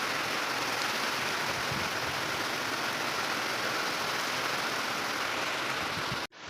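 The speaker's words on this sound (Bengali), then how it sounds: "তো দেখো বৃষ্টিটা কিন্তু মোটামুটি প্রায় ধরে এসছে।" Light rain falls on a rooftop as a steady, even wash of soft patter, continuous throughout and cutting off abruptly at the end.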